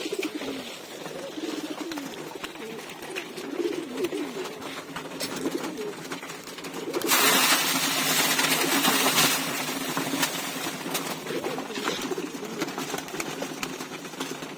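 Pigeons locked inside a loft coo steadily in overlapping low calls over a constant engine-like hum, with a louder rush of broadband noise partway through before the cooing carries on.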